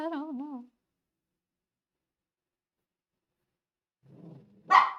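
Puppy Mocha lets out a single sharp bark close by near the end, preceded by a low whimpering grumble; a brief wavering vocal sound opens the stretch before a long silence.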